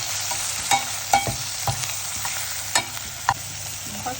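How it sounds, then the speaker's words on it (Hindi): Spices frying in a small amount of cooking oil in a pan for a spicy eggplant dish, a steady close sizzle broken by sharp spoon scrapes and clinks every second or so as they are stirred. "फिर थोड़ा सा इसको हिला लेना।"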